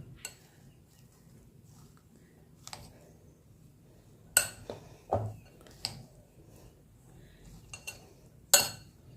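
A spoon loosening soaked sabudana pearls in a bowl, with sparse light scrapes and a few sharp metallic clinks against the bowl's rim, close and otherwise quiet.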